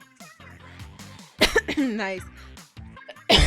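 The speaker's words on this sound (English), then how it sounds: "Ah, sorry. I'm coughing a lot." Two sharp coughs break up a person's speech, one midway through and another harsher one right at the end.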